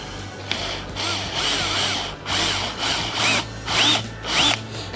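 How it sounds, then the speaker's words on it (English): A power drill fitted with a pointed wood bit bores into wood in repeated bursts, the motor whine rising and falling over about five seconds, close and fairly loud. "Yeah, Rani, it was a good idea to use the drill bits for the wood, because they has this pointy point."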